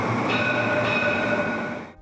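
Tram rolling through an underground station in Malaga, a steady close rumble with a faint metallic ring that fades at the end.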